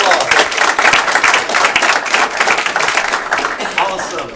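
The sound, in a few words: audience applause for volunteer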